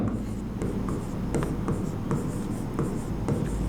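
Chalk or marker writing out an equation on a board, a steady scratchy scraping with short stroke taps, close and continuous under a low background hum.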